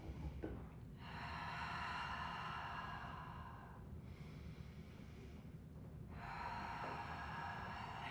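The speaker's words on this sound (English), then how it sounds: "we're just gonna do a few of those breathing exercises right now" Deep, slow breaths during a beginner Pilates breathing exercise, two long drawn-out breathy rushes separated by brief pauses, close and fairly quiet with no talking.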